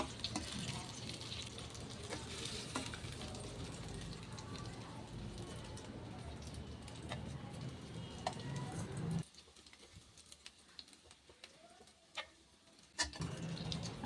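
Vegetable manchurian balls deep-frying in hot oil in a kadai give a steady, dense sizzle with occasional ticks for about nine seconds, then the sizzle drops to a much quieter background with a few sharp clicks.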